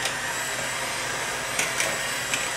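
An electric mixer beats a mixture in a pot, giving a steady close whirring drone with a few brief knocks against the pot near the end, without talk.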